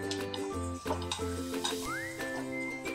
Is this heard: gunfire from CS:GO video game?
no